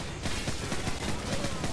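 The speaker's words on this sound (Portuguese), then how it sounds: "Nossa, tomei uns tiros." Dense, loud gunfire fills a firefight in the video game Call of Duty 4: Modern Warfare, rapid overlapping shots blurring into a continuous barrage with no break.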